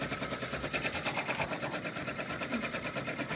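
A multi-needle commercial embroidery machine, a Brother PR1055X or Melco EMT16X, stitches with a fast, steady mechanical chatter and rhythmic pulsing, close and continuous throughout.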